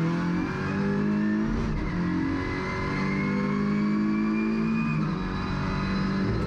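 Audi RS3 LMS TCR touring race car pulling hard out of a tight first-gear hairpin at Motorland Aragón, its engine loud and close as it revs up steadily through the gears with no voices.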